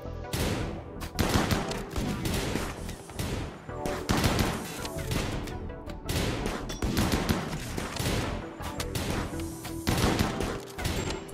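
Guns fire repeatedly in the colony strategy game Rimworld, including shotguns, in dense overlapping bursts of shots and volleys with brief lulls. The crackling barrage continues throughout with no voices.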